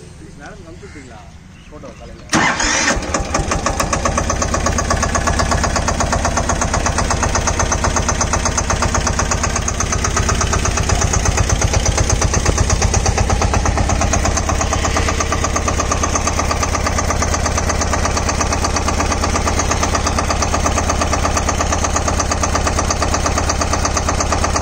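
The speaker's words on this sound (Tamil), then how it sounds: "நம்ம எல்லா வீடியோலையும் பார்க்குற மாதிரி இந்த இன்ஜினையும் ஸ்டார்ட் பண்ணி காமிக்கிறேங்க." A small single-cylinder engine on a Massey Ferguson 5118 18hp 4wd mini tractor cranks and catches after a couple of seconds, then runs at a loud, steady thumping idle close by.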